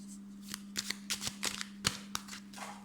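Oracle cards being shuffled by hand for a reading, a quiet sequence of crisp riffling slaps and flutters in irregular bursts, close and alone without talk.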